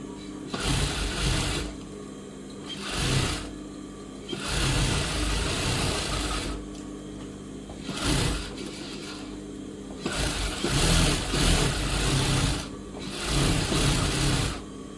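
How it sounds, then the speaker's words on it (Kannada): A sewing machine stitching a blouse, running in several bursts of rapid mechanical whirring separated by short pauses, close and fairly loud. "ನಾವು ಈ ಕಡೆಯಿಂದ ಸ್ಟಿಚ್ ಬಿಡ್ತಾ ಇದ್ದೀನಿ"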